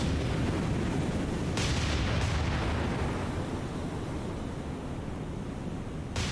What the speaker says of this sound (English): Okay, torpedo out.